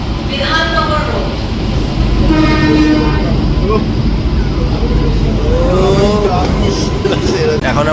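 A local train bound for Sealdah rattles along the tracks near Bidhannagar Road, a loud steady rumble with several rising and falling horn or whistle tones, and people talking over the noise.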